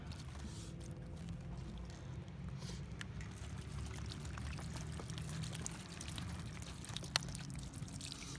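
Water poured from a bottle to soak something outdoors in a cemetery at night, a steady low splashing pour running continuously under a faint hiss, with a small sharp knock near the end.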